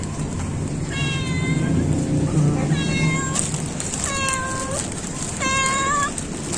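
Four distinct meows from a street cat near a Si Phraya Road noodle shop in Bangkok, spaced about a second apart, close and clear over a low hum of traffic.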